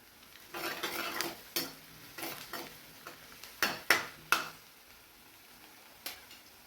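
Curry leaves tossed into roasted onion in a hot pan while making kanda poha, a light crackle and sizzle with scattered sharp metallic taps and scrapes of a spoon, near and unvoiced.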